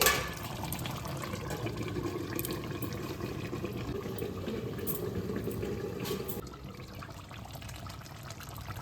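Fish curry with aubergine, potato and tomato simmering in a covered pot, a steady close bubbling hiss that holds evenly throughout, easing slightly softer near the end.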